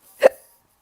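One short, loud human hiccup sounds close by and alone, then silence follows.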